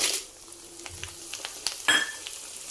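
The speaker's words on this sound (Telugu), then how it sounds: "పచ్చిమిరపకాయలు ఈ విధంగా అన్నీ చక్కగా తిరగమత వేసుకుని వేయించుకున్న తర్వాత చివరిలో ఒక స్పూన్ ఇంగు కూడా ఇందులోనే వేసుకోవాలి" Green chillies frying in hot oil as a tempering for amla pickle, a soft steady sizzle with scattered light crackles and a brief louder spatter midway, close and alone without talk.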